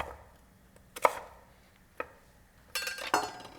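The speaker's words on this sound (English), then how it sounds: "All right, that is how you slice a sweet potato." A knife slices a sweet potato into fries on a cutting board: a handful of sharp, close chops land at uneven intervals in a quiet room.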